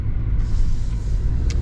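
A 2022 Chevy Silverado Trail Boss LT full-size pickup circles a roundabout, giving a steady low engine and road rumble heard from inside the cab, with a brief faint hiss near the end.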